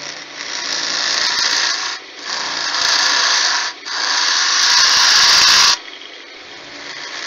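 Wood lathe turning a hybrid glass and wooden bottle with a skew chisel used for hollowing, giving three sustained bursts of bright, scraping cutting noise with brief pauses between them.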